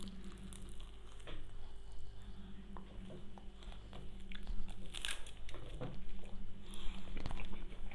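Someone bites into and chews a crispy fried Turkish pastry roll with cheese and garlic sauce, giving repeated close crunches and crackles that grow louder toward the end.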